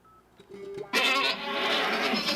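A goat bleats loudly and close, a long wavering cry, after a few quieter sounds at the start.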